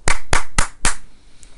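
Four loud, sharp hand claps at an even pace, close to the listener, followed by a short fading tail, with no talking.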